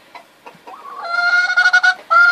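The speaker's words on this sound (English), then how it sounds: "she's a total lap chicken" A seven-year-old Andalusian hen clucks close by, a few short soft notes rising into a run of loud, drawn-out, nasal squawks.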